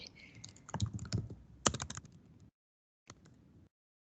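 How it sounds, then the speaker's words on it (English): Computer keyboard typing, with bursts of clicky keystrokes at close range, some louder taps mixed in, then a pause of near silence before a short final cluster of key presses. "hold down my shift and then I type in my dash for a line"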